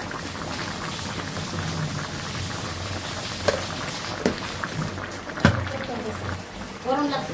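Malabar spinach simmers in a pot with salt, turmeric and green chilies, giving a steady soft bubbling under a voice, with a few sharp clinks of a utensil near the end.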